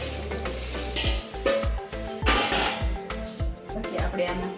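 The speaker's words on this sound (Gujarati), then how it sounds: "હવે બધું હલાવી લઈશું।" Puffed rice tossed with fried sev and poha is stirred in a pot, producing a series of close, dry rustling and scraping strokes in a quick, repeated rhythm.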